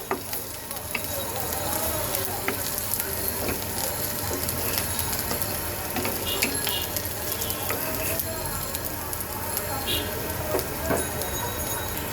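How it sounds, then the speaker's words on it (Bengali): Onions fry in a pan as a base for a prawn curry with potatoes and young stalks, producing a steady, close sizzle with busy clicking and rattling stirring noises throughout, no talking over it. "পেঁয়াজটাকে আমি আরও একটু ভাজবো"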